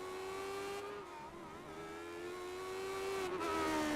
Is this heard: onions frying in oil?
no